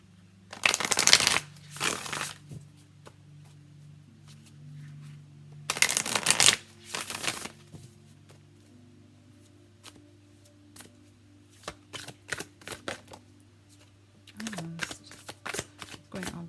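A deck of Modern Love Tarot cards being shuffled in several loud riffling bursts close by, separated by quiet gaps and softer card taps.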